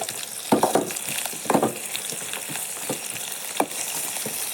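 Tomatoes sauté in a hot pan as a spatula scrapes and turns them, with a steady sizzle broken by several louder stirring scrapes and clatters at close range.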